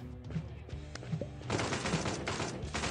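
Rapid gunfire and explosive blasts from the mobile zombie-survival game Zombie Virus Strike, with sharp repeated shots giving way to a denser burst of fire and bangs, fairly quiet throughout.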